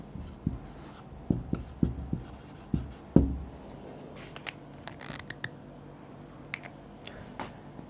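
Pen writes on paper during a maths lesson, a close, quiet run of scratchy strokes and sharp taps, busier at first and sparser toward the end, with no voices.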